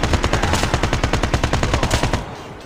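Rapid automatic AK rifle fire in Call of Duty Mobile, a steady rattling burst of closely spaced shots lasting about two seconds, loud and close, then cutting off abruptly.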